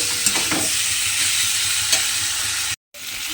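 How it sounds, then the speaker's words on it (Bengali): Fried potatoes and spices sautéing in a pan hiss in a loud, continuous sizzle, close up, with a couple of faint stirring knocks. There is a brief dropout near the end and no voices. "আলুর সঙ্গে মশলাটা আমি এখানে খুব ভালোভাবে কষিয়ে নিয়েছি"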